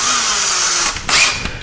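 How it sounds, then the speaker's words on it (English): A small power drill with a 1/16 or 1/8 inch bit boring a pilot hole into a wooden beam, a loud close high whine that stops near the end, followed by brief handling noise. "we're going to take a small pilot hole here and here just to confirm that we're in the beam"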